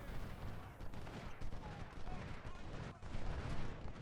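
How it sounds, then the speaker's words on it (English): Massed musket volleys crackle and rumble in a Civil War battle at Saunders Farm in Ultimate General: Civil War, with skirmishers trading shots in a continuous, uneven barrage of overlapping gunfire. "I am actually exchanging shots with him"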